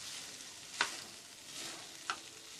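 Rice being mixed with spices, onions, tomatoes and chili in a pan, a faint soft scraping with two brief sharp clinks of the spoon against the pan.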